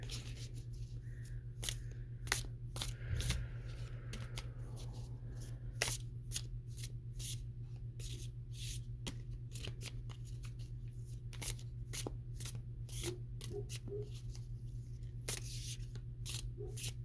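Oracle cards are shuffled repeatedly by hand, with a long run of sharp close riffles and flutters over a constant low electrical hum.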